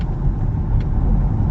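Polestar 2 electric car pulling away under acceleration, heard as a steady, loud low rumble of road and motor noise with no talk.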